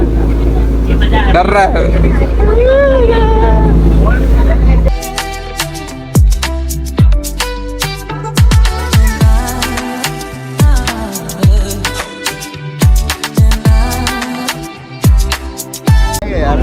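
Motorboat ride to Elephanta Caves, Mumbai, its engine droning loud and steady beneath excited talk, laughter and frequent bumps and thuds from the hull slapping the water.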